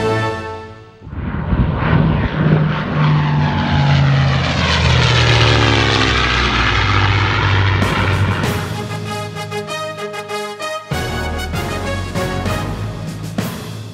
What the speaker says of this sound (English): That plane became one of the best, if not the best, all-around fighter plane of the prop era.